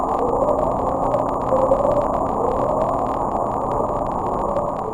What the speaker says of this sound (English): It's not just noise, it's a series of short ascending tones repeated at intervals of several seconds.